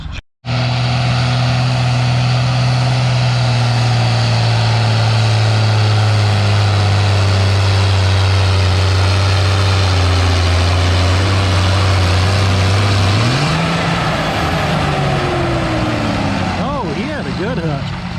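A 1955 Oliver tractor with a swapped-in Cummins engine labours loudly at a tractor pull, a deep sustained drone that holds steady and then rises in pitch near the end, with people talking over it.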